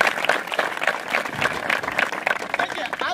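Steady applause with a rhythmic clapping pulse from a group at an indoor fitness workout session, moderately loud and continuous, with voices mixed in.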